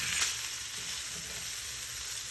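A thick Florentine bistecca steak sizzles steadily in the heat, a close, continuous crackling fry with a small sharp pop at the start and no talk.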